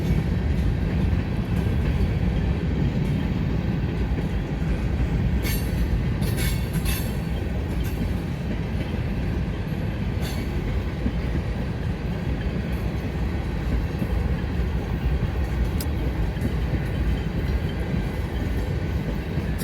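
A Conrail freight train rumbles steadily past in Woodbury, New Jersey, a continuous loud roar of rolling cars with a few brief high metallic squeals from the wheels, and no voices heard.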